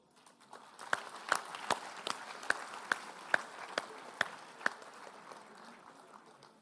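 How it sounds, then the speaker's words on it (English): Sparse applause at a university graduation ceremony for a medal winner, a thin scattering of claps with a few sharp, prominent nearby hand claps in a rough rhythm, fading out over several seconds. "A loud round of applause, please, everybody."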